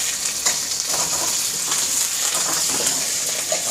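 Green chillies frying in a pan give a loud, dense, continuous sizzle up close, crackling steadily with occasional stirring scrapes and no talking.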